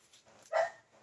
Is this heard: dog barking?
yes